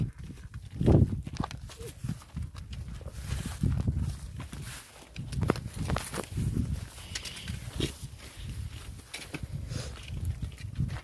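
Uneven clopping of cattle hooves as the animals walk, irregular thuds close by over a rough outdoor background, with no talking.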